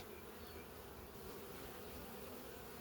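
Carniolan honey bees buzzing at an open hive, a dense, steady drone that stays level and continuous throughout, faint overall with no voices.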